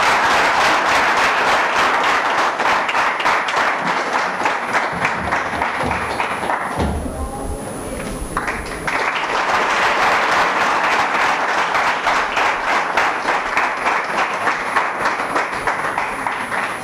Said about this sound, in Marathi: सर्व विद्यार्थ्यांनी जोरात टाळ्या वाजवून या विद्यार्थ्याचं अभिनंदन करायचं आहे